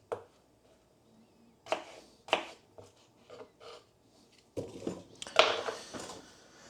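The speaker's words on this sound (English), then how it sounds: "There we go, potatoes cut." A kitchen knife cuts potatoes into small pieces on a board for leek and potato soup: irregular, close, crisp chops in a quiet room, scattered at first and then coming quicker and louder near the end.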